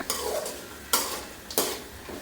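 Three medium tomatoes fry in a pan while a spoon scrapes through them in three distinct strokes, each followed by a sizzle that fades before the next stir.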